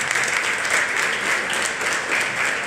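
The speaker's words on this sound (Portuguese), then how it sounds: "Aplaudimos a Jesus pela irmã Rízia." A church congregation in Anápolis applauds during a youth gathering, a thick, even wash of clapping from many people that holds steady for the whole short stretch.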